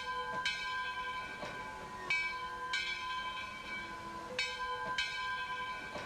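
A steam locomotive's bell clangs in Trainz 2022 on the C&O Hinton route, ringing at an even, unhurried pace with clear, bright strikes over a low rumbling background.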